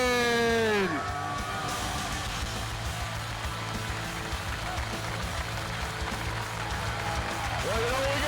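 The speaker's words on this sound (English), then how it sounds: "Please welcome and give a warm Stockton round of applause for Hacksaw," A convention crowd welcoming wrestler Hacksaw Jim Duggan at StocktonCon: a steady wash of applause and cheering under a loud music sting that fades in the first second, continuing evenly throughout.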